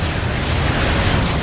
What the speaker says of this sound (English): I'll kill him with my riot cannon.